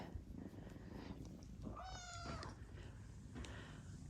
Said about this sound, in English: Oh, that purr.